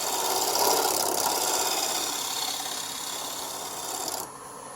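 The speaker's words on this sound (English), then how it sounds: "so I want to shear scrape it out" Shear scraping inside a twice-turned wooden pedestal dish on a lathe: a continuous, bright raspy scrape over the spinning wood's hum, steady for most of the stretch before easing off near the end.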